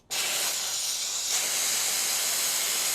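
A pressure cooker releases its steam vent, a loud, sharp hiss bursting in abruptly and then holding steady and continuous nearby, with no voices over it.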